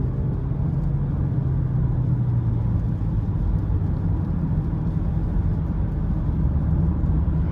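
A 2023 Nissan Rogue SV with the 1.5-litre VC turbo engine, driving at about 2,500 RPM, a steady low cabin rumble and engine drone that holds even throughout with no voices.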